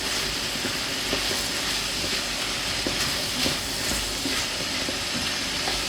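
Shrimp and asparagus, with mushrooms added, stir-frying in a pan: a close, steady sizzling hiss with faint crackles and light clicks of stirring throughout.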